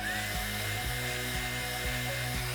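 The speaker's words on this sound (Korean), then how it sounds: "앞머리 볼륨을 드라이기로 살려줬고요." A hair dryer blows steadily while a stylist lifts volume into bangs, giving a continuous close motor whir with a humming drone and no talking.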